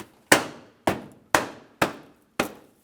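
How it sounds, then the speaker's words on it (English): A plastic bumper cover on a Ford Flex is pressed onto its mounting clips, giving five sharp, close clicks spaced about half a second apart, each ringing briefly before fading. "Listen for a click."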